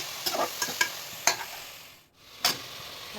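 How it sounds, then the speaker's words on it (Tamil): Onion, chili paste and mint stirred in hot oil for a mushroom biryani base, giving a soft continuous sizzle with a few scraping stir strokes, close and steady with a brief quiet gap. "ரெண்டு சில்லி ஆட் பண்ணிக்கிறேன் அது நம்ம அரைச்சி சில்லி கொஞ்சம் பேஸ்ட்டு பொதினாமல் மிக்ஸ் பண்ணி நல்லா கொதிக்க வைக்கணும்"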